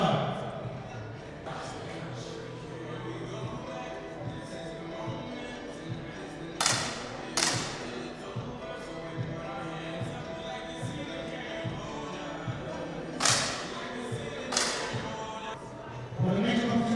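Women's 10m air pistol final at the National Games in Goa, with a few sharp, clipped shot reports spaced seconds apart over a steady hum of arena ambience and an announcer talking.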